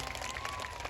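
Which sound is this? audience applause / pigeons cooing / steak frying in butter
audience applause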